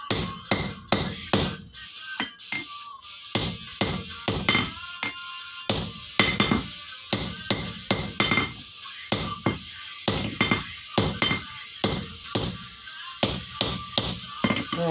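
Hammer striking a soft steel anvil, rhythmic bursts of sharp metallic blows in quick groups of two to four with short pauses, close and ringing, no talking.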